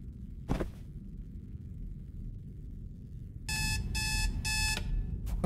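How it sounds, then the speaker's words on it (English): Alarm clock ringing in a horror video game, heard in a quiet room as a series of loud repeated electronic beeping bursts after a single faint earlier tone. "Set the alarm, alright."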